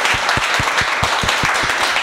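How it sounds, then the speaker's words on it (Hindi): An audience applauds students for their hard work at a mobile phone repair training session, a dense, steady burst of clapping heard close and alone. "आप लोगों के लिए बस जोरदार तालियां हमारी टीम बजाना चाहिए।"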